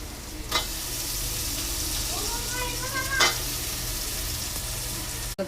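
Potatoes tipped into a pan of onions, turmeric, chili, salt and fresh ginger-garlic paste fry with a steady, close sizzle, stirring clatters and a brief clink of a utensil against the pan.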